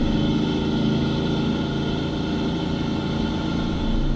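A four-wheel drive towing a caravan in second gear along the rough Bloomfield Track in Cape York gives a steady, even engine drone heard from inside the cab, a low constant rumble with no talking.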